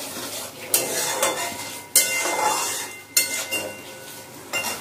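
Spice paste sautéing for prawn malai curry, a steady sizzle in a pan broken by periodic sharp clinks and scrapes of a spoon stirring against the metal, close and loud, with no voices.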